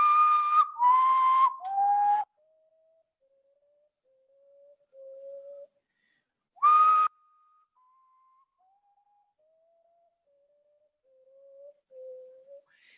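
Common potoo calling in Panama, a clear mournful whistled phrase of notes stepping down in pitch, sung twice with a pause between, followed by fainter, softer descending whistles, heard alone with no talking.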